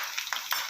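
Spices are stirred into beef nihari frying in a pot, a close, steady sizzle with a couple of brief scraping strokes in a very short moment, no talk.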